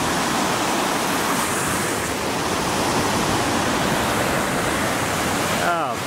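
Steady, dense wash of water lapping and breaking along the Lake Michigan shoreline, close and continuous with no pauses, with a brief disturbance near the end.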